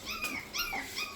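A Teddy Bear Shichon puppy gives a short run of high, thin whimpers and yips, three quick rising cries in close succession, heard up close and fairly faint.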